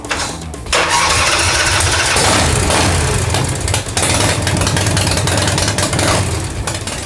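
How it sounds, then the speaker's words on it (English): A motorcycle engine cranks and catches, then settles into a loud, steady running rumble nearby, with brief dips as the throttle shifts. "right now we're ready to crank over the engine, and we want to start it up"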